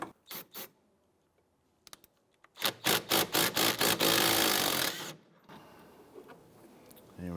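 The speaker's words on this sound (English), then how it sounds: "We used some rust penetrant, and we're spinning that nut off now." Rusted nut spun off a 2001-2005 Honda Civic rear sway bar link with a power tool: a couple of short bursts, then a loud run of rapid rattling pulses lasting about two seconds before it stops.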